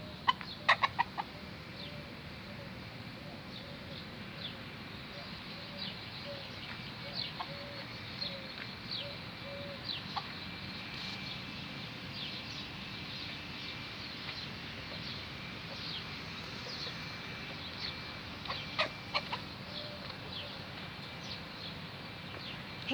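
Chickens on a grandfather's farm with date palms cluck softly and intermittently at a distance, with a few sharper calls near the start and end over a quiet outdoor background.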